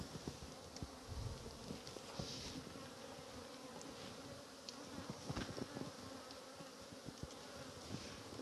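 Honeybees buzzing in an open hive during queen cell rearing, a continuous close drone with scattered louder passes of individual bees, and no talk.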